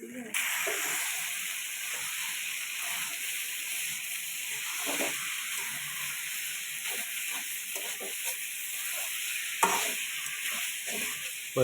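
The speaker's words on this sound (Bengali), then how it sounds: "এই যে কালা বোনা হচ্ছে" Kala bhuna sizzles and fries steadily in a pan while it is stirred, a constant hissing sizzle broken by soft scraping stirs and an occasional louder clatter near the end.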